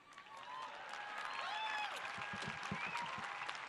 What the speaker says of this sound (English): Hold for applause